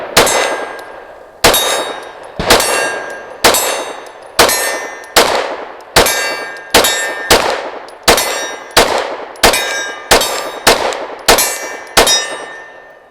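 A Kimber R7 Mako Carbon Compact pistol fires in rapid succession at a single steel target, each shot a sharp loud crack followed by a bright ringing clang that decays, about fifteen evenly spaced hits with no talking.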